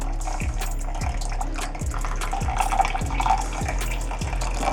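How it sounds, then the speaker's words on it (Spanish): Water pours from a container onto 100 grams of plain white sugar to make syrup, a steady splashing stream with repeating low glugs, close and continuous, with no talking. "Acá tengo 100 gramos de azúcar común, azúcar blanca, y le voy a agregar agua."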